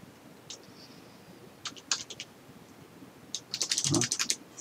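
Typing on a computer keyboard sounds as a few scattered keystrokes followed by a quicker burst of clicks, close and fairly quiet, with no one speaking.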